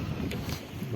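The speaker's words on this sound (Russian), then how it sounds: "дует дикий ветер до 100 километров в час," Strong, gusty winter wind of up to 100 km/h in Anapa roars against the microphone, a dense, unbroken rushing buffet throughout.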